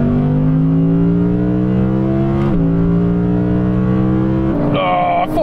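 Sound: Audi R8 GT and RS6 GT accelerating in third gear

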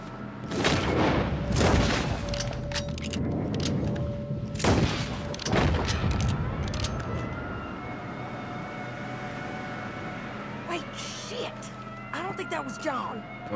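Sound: gunshots in the video game Red Dead Redemption 2

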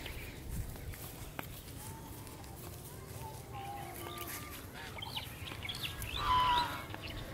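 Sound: geese on a farm

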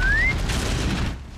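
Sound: whistle to lure enemy in Horizon Zero Dawn video game

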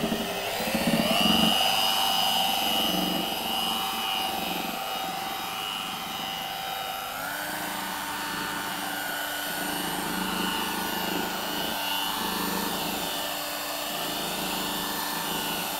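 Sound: rotary polisher running on a GRP panel

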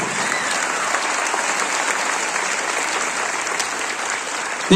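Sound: applause for the choir

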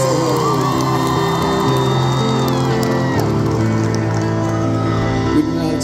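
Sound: concert crowd applauding and cheering

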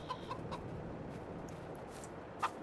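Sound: chickens clucking in a farming video game

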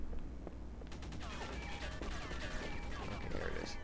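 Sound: assault rifle gunfire in Halo 3 video game

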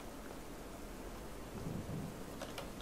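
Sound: thunder in the Slender Mansion video game

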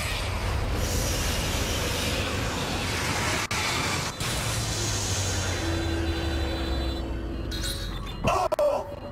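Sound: train in Dead Space 2 video game

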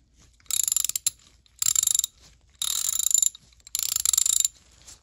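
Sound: KAL USA 3/8 drive ratchet clicking

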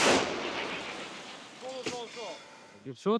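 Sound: artillery gun firing

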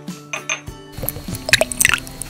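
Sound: water poured into a small 10 ml flask

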